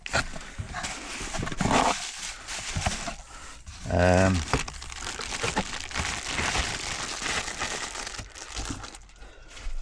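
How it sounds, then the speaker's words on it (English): A KERUI PoE security camera kit is unpacked from a cardboard box, with close crinkling, rustling and thudding of packaging and a brief ripping sound, while a voice talks at times. "So I'll quickly take it all out of this box here."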